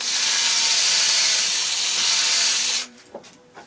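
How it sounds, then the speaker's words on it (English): A power drill bores a slot into an antler knife handle, a loud steady high-pitched whine and grind for nearly three seconds, then stopping abruptly and followed by a few faint clicks and taps. "And then keep working the drill up and down"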